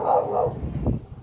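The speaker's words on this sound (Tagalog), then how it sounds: "Ingay ng aso" A dog gives a single short bark, fairly close by, against a soft background murmur.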